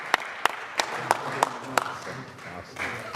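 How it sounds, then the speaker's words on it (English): Applause in a Lynn city council chamber, a short burst of scattered hand claps from a small crowd, fairly close, with a voice talking over it. "let's have a big round of applause for All-American"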